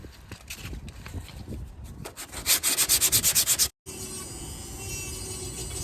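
Hand sanding down a raised bump on a surface, with close, scratchy rubbing strokes that grow into a fast rhythmic burst of back-and-forth passes, a brief pause, then a steady grinding rasp.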